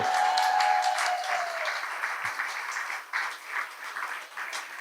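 An audience at a live storytelling event breaks into a round of applause, dense continuous clapping that holds steady before gradually thinning out.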